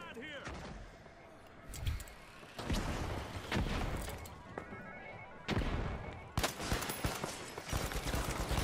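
Pike-556 rifle fire in the video game The Finals, sharp loud shots in short bursts and single cracks scattered across the clip, mixed with other game impacts and some talk.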